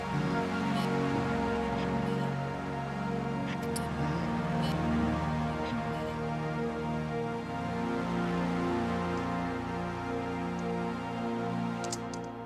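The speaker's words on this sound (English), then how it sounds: "two dirty, grindy synths that sound like this" Two stacked dirty, grindy synths play together as a dense, sustained, buzzing wall of distorted tone, loud and continuous throughout with faint crackly transients and no voices.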